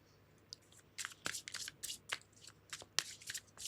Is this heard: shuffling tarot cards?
yes